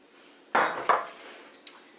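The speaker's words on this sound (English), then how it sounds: "I'm going to give it a little mix" A utensil knocks and scrapes against a bowl while a dip is being mixed, giving a couple of distinct clinks followed by a fainter tap, close and alone without talk.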